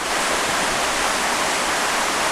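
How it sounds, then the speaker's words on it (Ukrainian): A cold mountain stream on a trail near Alhaurín el Grande in January rushes steadily, a dense, even hiss of flowing water filling the scene close by with no pauses. "Але це гірська, вона сама по собі повинна бути холодна. Але прикинь, скільки цієї води, звідки вона тече звідси горба"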